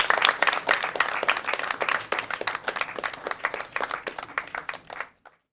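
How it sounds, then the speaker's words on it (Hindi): Audience applause greets a professor taking the stage at a student play, a dense, steady clapping that carries on for about five seconds before stopping abruptly. "ताली के साथ सर का स्वागत करें।"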